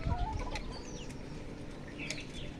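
Backyard chickens on a sunny rooftop cluck and stir, with short flurries of wing flapping, close and steady over a background hum.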